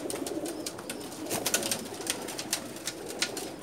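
Pigeons of a family-bred line coo softly in steady repeated calls close by, with faint wing flutters and no talking.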